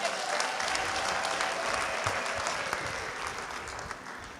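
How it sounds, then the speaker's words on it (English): A crowd at a university graduation ceremony applauds in a steady, moderately loud wash of clapping that fades slightly toward the end, with a faint murmur of voices underneath. "They deserve another big round of applause."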